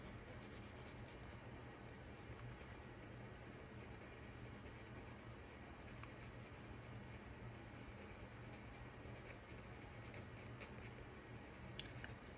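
A colored pencil scratches steadily across paper while shading a female cardinal drawing, a soft, continuous, close-up rasping with a quiet room hum beneath.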